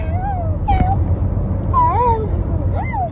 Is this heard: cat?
yes